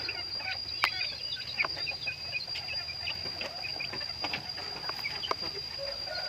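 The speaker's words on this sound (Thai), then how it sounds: "อันนี้เป็นพ่อพันธุ์กับแม่พันธุ์ไก่พื้นเมืองนะครับ" Native Thai breeding chickens, a rooster and hen of a fighting-cock type, cluck and scratch in short, scattered calls, with a steady high insect-like whine in the background.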